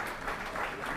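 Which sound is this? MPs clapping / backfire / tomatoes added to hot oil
MPs clapping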